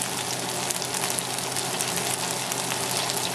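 An egg frying in hot oil in a wok while making Pad Thai noodles, a steady, even crackling sizzle throughout with no talking.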